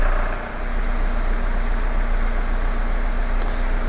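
A diesel car engine idles steadily and close by, a continuous low rumble with no speech over it. The engine is running on engine oil as fuel and is warming up while giving off haze.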